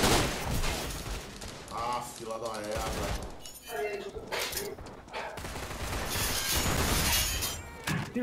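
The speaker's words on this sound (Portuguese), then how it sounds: "jogaram a granada" Grenade blasts and gunfire in an online shooter game, bursts of loud crackling explosions and shots repeating across the whole stretch, with a voice talking over parts of it.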